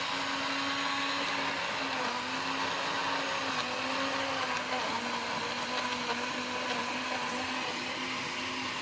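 A kitchen blender whirring through a smoothie, a loud steady motor drone with a slightly wavering pitch running unbroken throughout, no voices.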